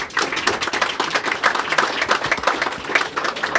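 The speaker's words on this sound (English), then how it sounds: "Everybody give them a round of applause." An audience at the Little Arrow Resort applauds steadily, a dense, close wash of many clapping hands that holds at an even level for several seconds with no talk.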